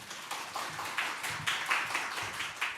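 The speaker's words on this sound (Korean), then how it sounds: "나오실 때 따뜻한 박수로 환영해 주시겠습니다" A church congregation claps to welcome a missionary pastor to the pulpit, a thin scattering of hands beating out soft, loosely rhythmic bursts.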